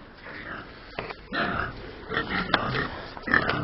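Close, rough grunting and snorting from pigs in irregular bursts, with a sharp squeal near the end and a noisy barnyard background in Africa.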